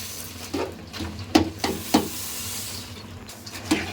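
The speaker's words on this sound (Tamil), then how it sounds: "நம்ம பொறி எடுத்து வச்சுருக்கோம் இல்லைங்களா அப்படியே கொஞ்சம் கொஞ்சமாக கொட்டி கிண்டிடுங்க" Puffed rice being stirred in a wide pan makes soft scraping swishes with a few sharper rattling scrapes spaced through, over a light background hiss, close and with no speech.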